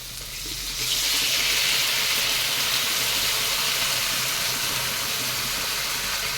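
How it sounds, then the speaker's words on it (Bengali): Water hits a hot pan of fish curry with cucumber, giving a loud, steady hiss and sizzle that swells after the first second and holds to the end, without speech. "এবার এতে জল দিয়ে দেবো।"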